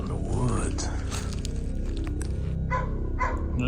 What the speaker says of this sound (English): Now you got the dogs barking again, Martha